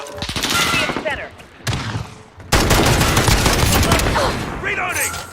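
Sustained rapid gunfire in a video game firefight, loud and close, with dense bursts rising into a continuous barrage and brief game voice lines between.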